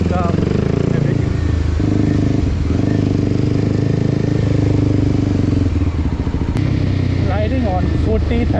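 Kawasaki Ninja motorcycle fitted with an Akrapovic exhaust and no dB killer, riding along with a loud, steady, rumbling engine drone that swells and crackles near the end.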